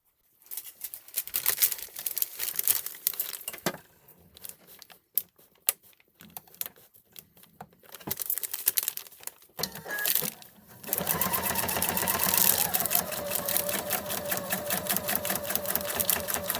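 A sewing machine stitches through a foundation-pieced Christmas tree quilt block seam, starting with short stop-start bursts and then running in one long, steady, close whirr.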